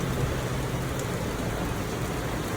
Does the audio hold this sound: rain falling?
yes